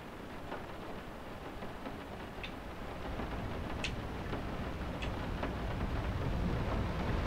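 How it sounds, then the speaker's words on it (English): Heavy rain and thunder in the horror video game Layers of Fear: a dense, steady hiss of downpour with faint low rumbling and a few soft brief ticks, fairly quiet throughout. "The rain is deafening."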